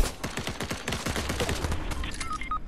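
Rapid automatic gunfire in Fortnite: a fast, evenly spaced string of loud shots for about two seconds, then a few sharp higher game effect tones at the end.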